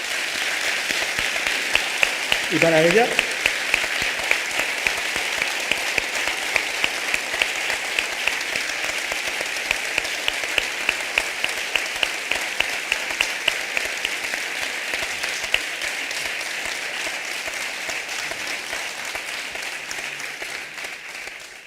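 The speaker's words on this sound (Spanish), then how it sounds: "Por favor, un fuerte aplauso para ellos" An audience at a book presentation in Guareña gives long, sustained applause, dense and even with sharp individual claps standing out, fading slightly toward the end; a voice speaks briefly over it near the start.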